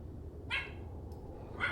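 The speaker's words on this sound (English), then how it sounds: "My dog is barking" A dog barks twice, a pair of short, sharp yelps spaced about a second apart, faint and a little distant over a low steady background hum.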